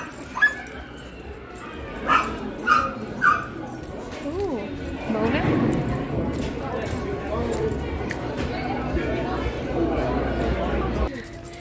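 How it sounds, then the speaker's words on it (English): A dog gives a few short yips and whimpers early on, followed by a steady background of indoor chatter and bustle, with people talking throughout. "No doggies allowed in there, Lele"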